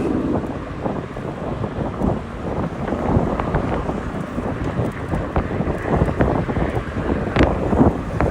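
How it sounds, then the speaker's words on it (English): Strong wind buffets the microphone during an outdoor bike ride on the Jamaica Bay Loop in New York City, a continuous loud rushing roar with gusty surges and no speech. "This wind is something else right now."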